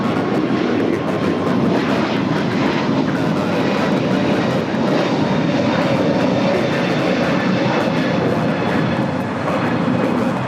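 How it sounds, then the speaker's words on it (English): A United Airlines Airbus A321neo jet takes off, its engines a loud, continuous broadband roar that holds steady and close throughout, with no voices over it. "That is United Airlines 1980 taking off to Denver, Colorado on the A321neo."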